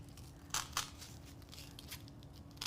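Scissors cut through Dollar Tree peel-and-stick tile with several quiet, crisp snips spaced irregularly against faint room noise.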